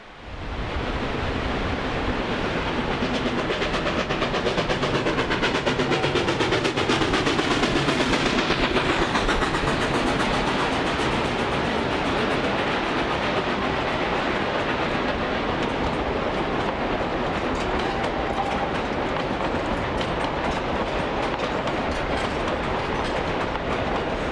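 A 1923-built steam locomotive on the Durango and Silverton railroad pulls a train up a grade, rumbling loudly and steadily throughout, a dense continuous roar with a faint rhythmic clatter and no talking.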